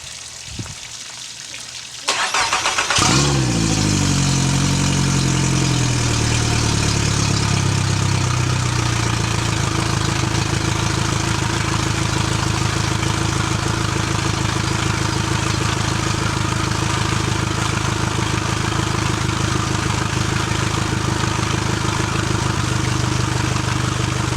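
A 2020 Suzuki DF140A outboard motor starts with a sharp burst after a quiet moment, then settles into a steady, close idle that hums evenly for the rest of the stretch, with a watery trickle underneath.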